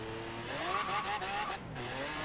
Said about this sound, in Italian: come sgomma